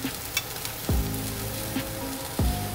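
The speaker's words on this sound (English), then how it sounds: "you want to stir vigorously to make sure there's an even coating of just a nice sear on the onions" Onions searing in a hot pan while being stirred vigorously, a steady close sizzle with a few sharp clanks of the utensil against the pan.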